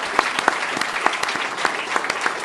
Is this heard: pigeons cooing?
no